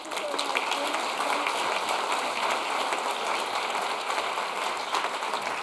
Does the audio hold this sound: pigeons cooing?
no